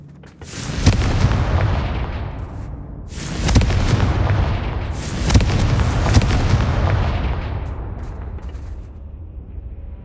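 A Confringo explosive spell fires in Hogwarts Legacy, giving three loud booming blasts spaced a couple of seconds apart, each fading into a long rumbling tail, with no talk over them.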